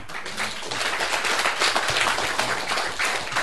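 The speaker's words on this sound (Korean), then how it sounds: "우리 큰 박수 한번 칩시다" A seated audience at a Buddhist monk's lecture breaks into big sustained applause, a dense even patter of many hands clapping at once without pause.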